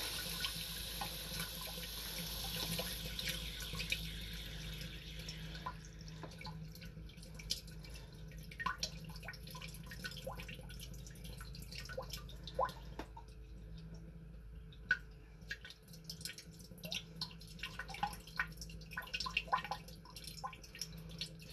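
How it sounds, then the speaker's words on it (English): Water drains and drips from an RV's plumbing system after the supply is shut off, with a steady trickle and scattered close drips in a small camper bathroom. "I'm just going to drain all this water out until I don't see any more drips"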